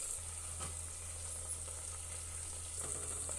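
Pumpkin halwa cooking in ghee in a pan gives a faint, steady sizzle with soft scraping stirs, under a constant low kitchen hum.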